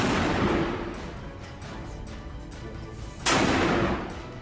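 Mortar shells bombarding a site in Gaza: heavy, rumbling blasts, one loud burst near the start and another sharp, louder impact toward the end, with a continuous low roar between them and no voices.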